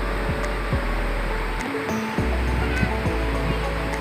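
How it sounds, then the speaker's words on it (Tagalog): Large ocean waves crash and roar continuously as fishing boats head out through the surf, a loud, dense wash with repeated surges and no talk. "Nakalusot na sa mga malalaking alon."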